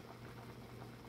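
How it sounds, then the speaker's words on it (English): Jamaican ital vegetable soup with beans bubbling as it boils in a pot, a faint, steady, dense simmering hiss with no talk. "look at that bubbling there"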